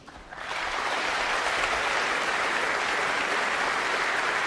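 A Welsh snooker crowd at the 2019 Welsh Open final breaks into loud, sustained applause that swells within half a second and holds steady, a dense wash of clapping with no voices.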